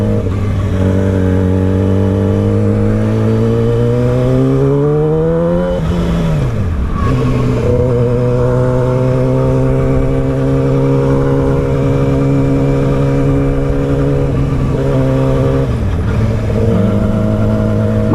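A 600cc Yamaha R6 sport motorcycle ridden on the road, its engine droning loud and close with rising pitch through the gears, a sharp drop around a shift, then a sustained steady hum.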